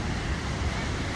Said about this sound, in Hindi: देखो नदी का बहाव,